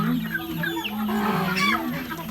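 Free-range chickens clucking and calling beside a rural farmhouse, several birds overlapping in a steady, busy chorus close by, with no talk.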